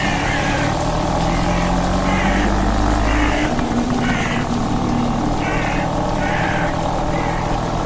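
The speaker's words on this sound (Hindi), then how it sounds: "जो स्कूटर शॉन से स्टार्ट नहीं हो रही थी उसे इविल विलन ने स्टार्ट कर लिया" A scooter engine starts and keeps running, a loud, near, buzzing motor drone with rhythmic pulsing swells, heard without speech.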